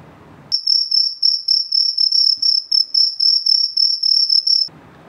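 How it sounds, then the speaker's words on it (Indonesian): A cricket chirps loudly and close in a fast, even series of pulsed trills that run for about four seconds, alone with no talk, then stops abruptly. "Contohnya, jangkrik"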